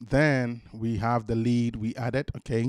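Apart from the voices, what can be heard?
No everyday noise stands out behind the speech.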